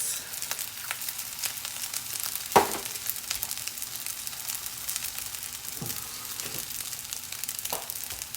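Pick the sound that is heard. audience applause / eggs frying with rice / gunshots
eggs frying with rice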